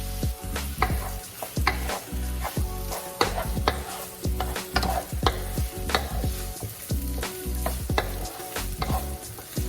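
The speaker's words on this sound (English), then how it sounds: "we're going to saute these until they're soft and tender" Vegetables sautéing in a hot pan, a steady loud sizzle with repeated scraping stirs of a utensil at an irregular rhythm, close up and with no voices.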